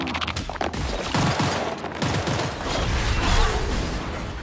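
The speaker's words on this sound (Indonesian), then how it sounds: "Mereka pun terus menembaki makhluk itu yang tidak ada habisnya, sampai peluru mereka telah habis." Dense bursts of gunfire blast continuously in an alien-invasion action film, sustained volleys of shots layered over rumbling battle noise, loud and close with no speech.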